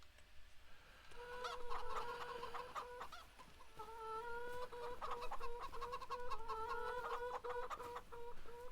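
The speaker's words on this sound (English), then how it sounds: "them chickens are loud" Chickens in the farming video game Farming Simulator 25, a flock clucking repeatedly in overlapping, rhythmic bursts, fairly close and continuous over a faint background hum.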